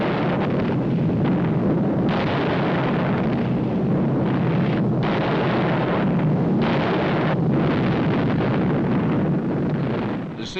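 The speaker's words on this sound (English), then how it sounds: "The bombing of Monty Casino" Bombs explode during the bombing of the Monte Cassino monastery, a continuous roaring wall of blasts and rumble with no clear gaps, loud and unbroken throughout.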